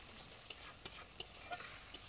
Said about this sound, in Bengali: মাছের ভুনো করার জন্য কিন্তু মশলাগুলো না ভালো করে কষে নেওয়া লাগবে